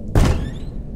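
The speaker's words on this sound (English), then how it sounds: "He's opening the door." A single heavy thud of a door being pushed open in the horror game The Joy of Creation, sharp and close, followed by a low, fading rumble with faint high ringing tones.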